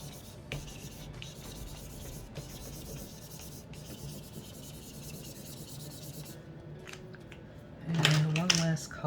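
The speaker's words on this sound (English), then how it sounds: "Just scribbling on the paper." Marker scribbling across paper while making stacked stone alcohol ink cards, a steady soft rubbing scratch close to the mic, ending with a brief louder squeak near the end.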